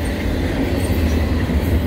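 A CN intermodal freight train led by three CN locomotives rolls past at Montmagny, Quebec, slowing down, with a steady close rumble of wheels and cars.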